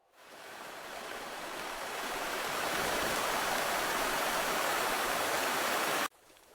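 Rising floodwater rushing past, a dense roaring wash of water that builds louder over several seconds and then cuts off abruptly, with no talking.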